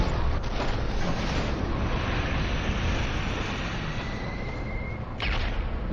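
Explosions and heavy blasts in a video game about destroying gas stations, a dense continuous roar of rumbling booms with aircraft-like engine drone throughout, loud and without speech.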